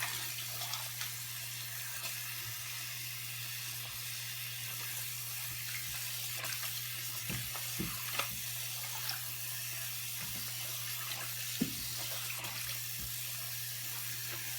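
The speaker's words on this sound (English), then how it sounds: "I let the sink fill" Faint steady rush of water running from a tap into a sink, with a low hum underneath and occasional small clinks, no talking.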